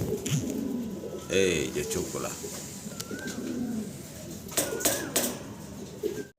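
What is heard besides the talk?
fancy pigeons cooing, Parbin pigeon breed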